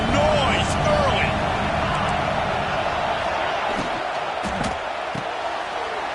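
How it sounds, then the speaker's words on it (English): A stadium crowd roars in the Madden football video game, a broad, continuous wash of cheering noise beneath which a commentator talks. "This crowd bringing the energy and noise early."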